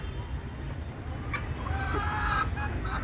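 Free-range desi chickens cluck near the listener during light drizzle on a farm, giving short repeated clucks over a soft, steady background hiss with no speech.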